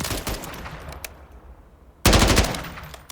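A full-auto rifle firing in Call of Duty Modern Warfare, with a rapid burst that trails off, a quiet pause, then a second loud, sustained automatic burst.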